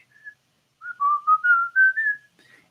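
A person whistles a bright melodic phrase alone, a short opening note followed by a run of connected, gliding notes over about two seconds, clear and close with no talking, in an instrumental ukulele lesson setting.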